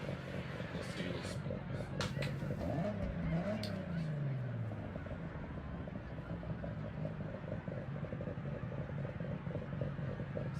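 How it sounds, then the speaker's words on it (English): A Forza Horizon car fitted with racing cams and a racing exhaust rumbles steadily at idle with irregular popping and lumpy engine pulses, running continuously under people talking. "you hear the cams popping just on idle"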